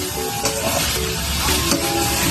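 Chicken pieces for Ilokano pinikpikan sizzling loudly in a pan while being stirred, a dense close frying hiss punctuated by a few scraping stirs, with no talk.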